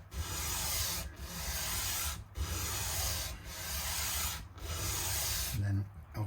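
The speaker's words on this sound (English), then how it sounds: "go to a lighter sandpaper as we get closer to the thing" Sandpaper rubbing against a Taylor Baby BT2e acoustic guitar part in steady back-and-forth strokes, loud and close, with four brief pauses between passes and a soft thud at the end.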